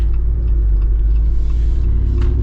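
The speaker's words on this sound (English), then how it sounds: "We're finally getting up and moving again here with our lifted Wrangler." A lifted 2023 Jeep Wrangler Rubicon 392's engine rumbles steadily with low road noise as it drives along at a constant pace.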